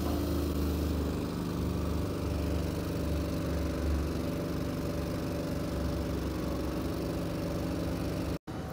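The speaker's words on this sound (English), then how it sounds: "we'll hit the hydraulics one more time and get that axle up" Hydraulics raise the flip axle on a Fontaine MX55 extendable heavy-haul trailer, heard as a steady droning engine and pump hum that runs unbroken and fairly loud, cut by a brief dropout near the end, with no voices.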